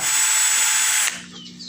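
A drill bit spins through a half-inch PVC end cap with a bright, close whine that runs for about a second, then cuts off abruptly into a faint low hum.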